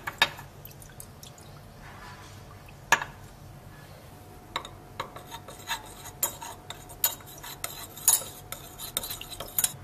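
A salt solution in absolute ethanol being stirred, with faint swishing and irregular light clinks and taps of a utensil against glassware, growing busier toward the end.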